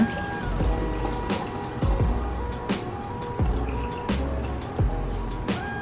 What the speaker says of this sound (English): Just pouring out the water.